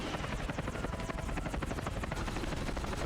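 Helicopter in the James Bond 007 From Russia With Love video game, a continuous rapid rotor thump with engine whine, steady and fairly close throughout with no talk.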